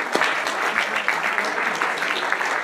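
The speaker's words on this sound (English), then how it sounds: "How about a round of applause for that table back there?" Audience at a Disney service standards presentation breaking into steady applause, a dense patter of many hands clapping at moderate volume throughout the short stretch.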